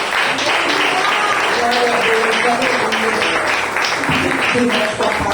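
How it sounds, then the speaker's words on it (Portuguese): Church congregation claps steadily and loudly to welcome a female pastor, a dense continuous wash of hands lasting the whole stretch, with some voices and faint tones underneath. "Vamos receber ela com as palmas do Senhor."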